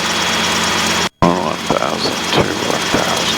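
A Robinson helicopter's engine runs steadily before departure on a training flight at Long Island, a continuous droning hum under close cockpit talk, broken once by a brief dropout.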